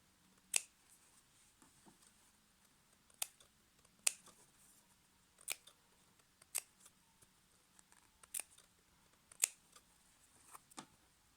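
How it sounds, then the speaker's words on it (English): Scissors snipping cotton thread and trimming a fabric edge while sewing a face mask: about ten crisp, close metallic cuts at an uneven pace in an otherwise quiet room. "I cut the threads and cut this edge a little bit."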